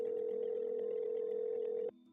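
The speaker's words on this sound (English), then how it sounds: "On Wednesday afternoon, Katina made a phone call to Sharnice." A telephone dial tone in an audio drama, one steady continuous hum held alone for nearly two seconds before cutting off sharply.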